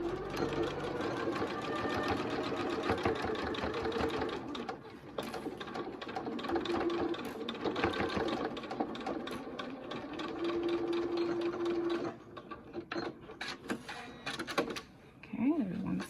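A sewing machine stitches a fabric pocket mask in long, steady runs with short pauses, fairly quiet and close, while a person talks over much of it.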